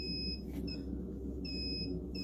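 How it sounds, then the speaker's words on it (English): A fire alarm triggered by a power outage goes off in a storage room, sounding high, piercing electronic beeps in intermittent bursts over a low background hum. "A power outage in one of the storage rooms was causing the fire alarm to go off."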